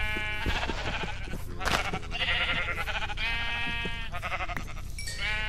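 Several sheep in Minecraft bleat repeatedly, overlapping wavering cries close by with a slightly synthetic, game-like quality, no talking.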